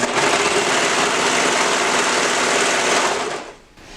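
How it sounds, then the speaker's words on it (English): A sewing machine stitches a stretched band onto a romper, a loud, steady high-pitched motor whir running continuously up close before slowing and stopping near the end. "And I'm going to start sewing"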